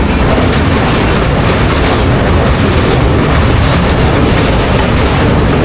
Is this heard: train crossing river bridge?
yes